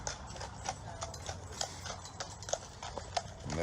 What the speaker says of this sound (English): Now I'm going to wait till this horse gets by.